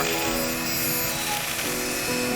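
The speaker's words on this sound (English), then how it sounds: "They're drilling the computer." A drill grinding into a computer's hardware in the video game Telling Lies: a steady, harsh mechanical whine that stays loud and unbroken throughout, with no pauses and no voices.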